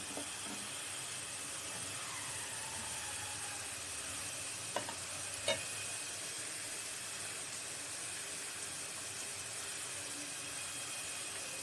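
Ginger and garlic frying in a pan for an amla pickle give off a steady, even sizzle and hiss throughout, with a couple of faint clinks as the mixture is stirred.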